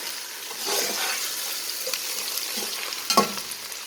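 Chicken with masala, green chilies and onion is stir-fried in a pan, giving a soft sizzle with scraping stir strokes and a sharper clatter near the end.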